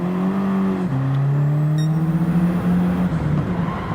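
A racing car in Gran Turismo 7 online Sport Mode passes close by, its engine note whining high and shifting pitch as it draws alongside, then a gear change and a steady rising drone as it pulls ahead.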